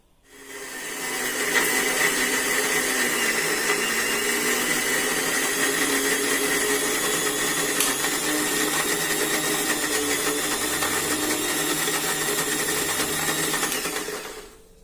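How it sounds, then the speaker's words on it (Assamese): An electric mixer grinder runs steadily for about thirteen seconds, close and loud, blending neem leaves, hibiscus flowers and henna leaves with a little water into a paste. "এতিয়া পানী অকণমান দি পেলাই এতিয়া মিক্সিত দি দিম"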